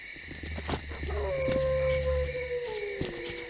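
A dog howls in the S.T.A.L.K.E.R. Clear Sky video game, a drawn-out wavering cry that slides downward over a few seconds, with a steady hum and other game sounds behind it.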